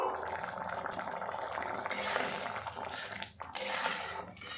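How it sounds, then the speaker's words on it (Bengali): Moong dal boiling in a covered pot, a soft steady bubbling and gurgling with a few brief clatters, as from a lid being handled, heard close and moderately quiet. "এতে ডালটা কিন্তু খুব সুন্দরভাবে সিদ্ধ হয়ে যাবে"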